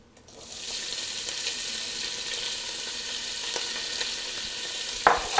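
Pancetta fries in olive oil in a pot over medium-high heat, giving a steady, close hissing sizzle that builds quickly and holds. A brief clink comes near the end.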